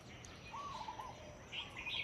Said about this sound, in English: Like I see a bird and I hear the bird.